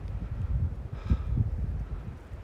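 Gusty wind rushing through an evergreen tree on a high mountain, a steady low roar that swells briefly in the middle, with no voices.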